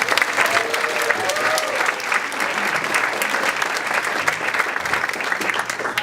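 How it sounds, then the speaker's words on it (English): An audience at a fire chief's presentation gives a round of applause for on-duty Station 1 firefighters, a full, even clatter of many hands sustained throughout, with a few faint voices in the crowd. "how about a round of applause for our on-duty firefighters from Station 1 tonight?"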